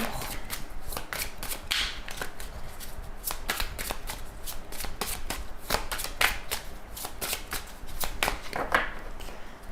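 Tarot cards being shuffled and cut by hand, a rapid series of crisp riffling bursts and soft slaps repeating throughout at close range, with no talking.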